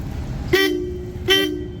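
Two short, bright bicycle horn toots, each about a quarter second, separated by a pause, over a low steady background rumble.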